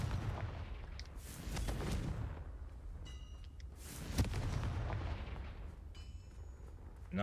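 In Hogwarts Legacy, Confringo spells blast walls apart: a series of deep booming explosions, one every couple of seconds, each with a crackling debris tail and bursts of magical shimmer between them.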